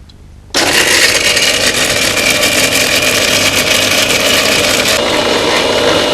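Mixer grinder whirring loudly as it grinds black pepper fine, switching on abruptly after a quiet moment and running at a steady high-pitched roar throughout.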